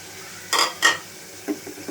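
Chopped onions and green chillies are stirred in a pan for a pangas fish bhuna: two quick scraping strokes close together, then a softer third stroke over a quiet background, with no talking.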